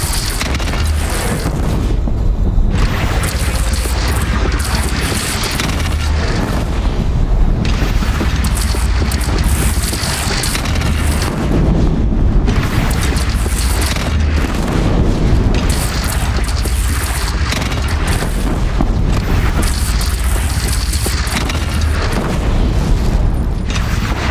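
Cannon fire in the Horizon Zero Dawn video game: a dense, loud battle soundscape of repeated heavy booms and bursts, with several sharp hits standing out over continuous rumbling noise and no clear speech.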